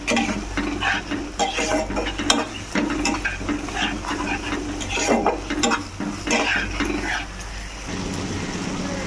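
Cumin and Kashmiri chilli powder sauté in a pan for an egg paneer curry with cashews, giving a continuous close sizzle broken by irregular stirring scrapes and light clinks of utensil on metal.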